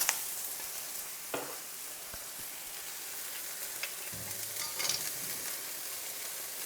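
Pasta risotto with leeks, chicken and fresh goat cheese is stirred in a pan, giving a soft, quiet sizzle with a few scattered spoon scrapes and taps. No one talks.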